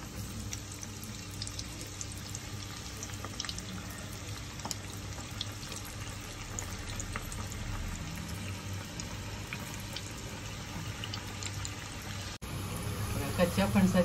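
Raw jackfruit koftas frying in hot oil make a soft, steady bubbling sizzle that runs throughout at low level, with a louder bump near the end.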